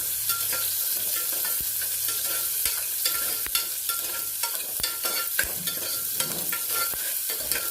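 Chopped onions sizzle in a hot pan with steady crackling and occasional scraping stirs, close and continuous, with no talking, while cooking horse gram rice.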